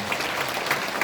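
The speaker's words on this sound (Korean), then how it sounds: "여러분 박수 부탁드립니다" A seated audience at an Incheon city town-hall event claps together, a brief, full burst of steady applause filling the room.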